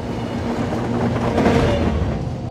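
A train travels on rails in the horror film Hostel Part II, heard as a continuous, moderately loud rumble with no voices.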